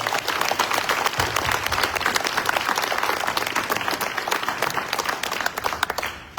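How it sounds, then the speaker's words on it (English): A church congregation at a celebration Sunday service bursts into sustained applause, dense and loud clapping that holds steady for several seconds before tapering off near the end. "So let's give them all a round of applause."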